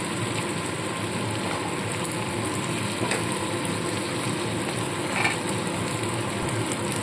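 Green peas and spices sizzle and fry in a wok for a spiced khichuri with potato and cauliflower, a steady soft crackling hiss throughout with faint stirring.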